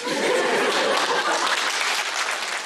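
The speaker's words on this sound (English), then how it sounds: "The audience applauded and cried." Audience applause after a theater performance in Aksaray, a dense, loud, sustained wash of clapping from a large crowd that holds steady throughout.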